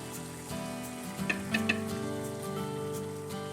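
Eggs poach in gently simmering water, a soft, steady low bubbling and light hiss that stays faint throughout, with a few brief louder bubbles partway through.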